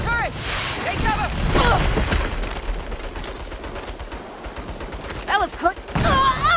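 A turret fires on a squad in Saints Row (2022). Loud bursts of gunfire come in rapid volleys, while shouting voices are mixed in and overlap the shots.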